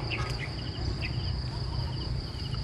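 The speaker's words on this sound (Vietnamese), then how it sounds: "Mọi người nghe tiếng dế kêu không?" Crickets chirp in a steady high-pitched trill at a campsite on Cù Lao Long Hựu in Vietnam's Mekong Delta, with a few other faint insect calls over a low outdoor rumble.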